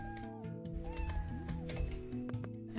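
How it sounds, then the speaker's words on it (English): Cats meowing in the video game Balthazar's Dream, several short mewing calls rising and falling over a busy, steady game soundtrack. "So these are little things that are spawning cats."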